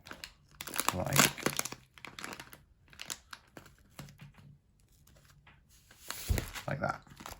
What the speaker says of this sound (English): Get a strip of duct tape, cut it so you've got a strip that will go over